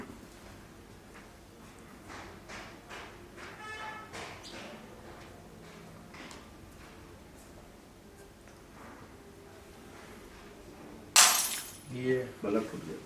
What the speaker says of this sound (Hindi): ये बल्ब फूट गया।